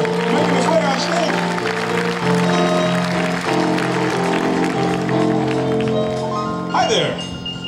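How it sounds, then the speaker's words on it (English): Audience clapping at the Medora Musical stage show as a volunteer walks up, a steady wash of applause blended with loud live music throughout and a brief swell near the end. "A round of applause for my volunteer."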